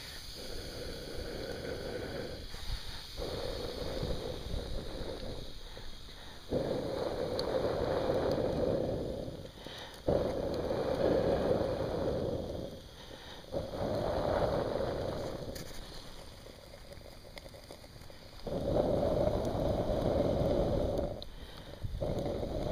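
Someone blows in long breathy gusts onto the fire of a backcountry boiler outdoors, about six separate blows of rushing air over a constant faint background hiss, with short pauses between them.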